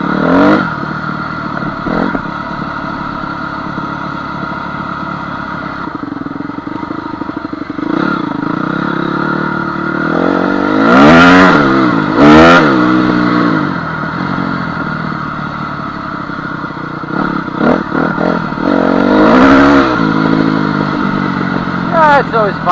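A Honda CR250 two-stroke dirt bike rides through ruts, its engine droning steadily and revving hard in loud bursts, close up, with clattering and scraping; a rider's voice is present at times.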